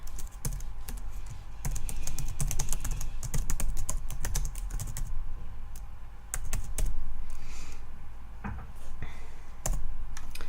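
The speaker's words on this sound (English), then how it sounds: "So in this first block I'm going to type hi." Rapid keystrokes clatter on a computer keyboard while a simple story is built in the Scratch programming tool, with bursts of clicks and brief pauses, close and steady, no talking.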